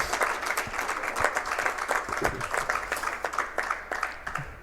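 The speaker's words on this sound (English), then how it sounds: "We will give that a round of applause." An audience gives a round of applause for a retiring athletic director, producing a continuous wash of many hands clapping at a steady, moderate loudness with no talk over it.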